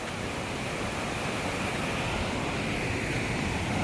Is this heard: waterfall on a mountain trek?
yes